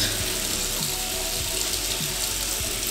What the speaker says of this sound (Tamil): இந்த டேப்பை நான் திறக்கிறேன், பாருங்கள். பாருங்கள், எந்த லீக்கேஜும் இல்லை